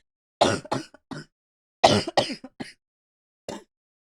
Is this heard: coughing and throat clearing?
yes